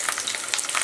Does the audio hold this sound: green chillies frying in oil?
yes